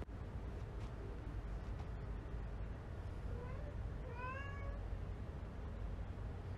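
A cat meows a couple of times midway, its rising and falling calls clear above a steady low background hum and rumble.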